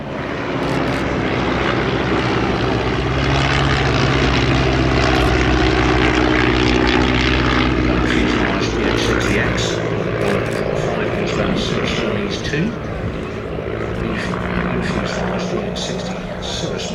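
A 1925-era Cirrus Moth biplane with a 60 hp Cirrus four-cylinder engine flying at a vintage airshow, its loud, steady propeller drone filling the whole stretch with slight swells as it passes, with some crowd noise beneath.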